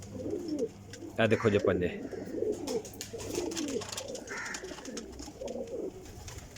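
Pet pigeons, including golden teddy pigeons, coo softly in low, repeated bursts nearby while someone talks over them.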